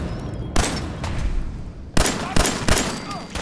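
Gunfire in Fallout 4 cracks out in loud, sharp shots: one near the start, another a moment later, then a quick cluster of three closely spaced rounds toward the end.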